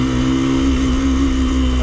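A motorbike with completely worn-out wheel bearings on a green lane trail ride makes a steady droning mechanical hum with a sustained whine, briefly and continuously, with the rear wheel wobbling.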